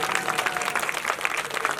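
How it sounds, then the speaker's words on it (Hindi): An audience at a religious katha gathering claps together in a continuous, moderately loud patter of many hands, steady for the whole short stretch. "ताली बजा दो।"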